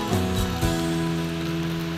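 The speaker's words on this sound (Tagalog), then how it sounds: "Yan, malakas ang ulan." Heavy rain falling in Singapore, a steady, loud, continuous hiss that fills the whole clip, with a low tonal hum running beneath it.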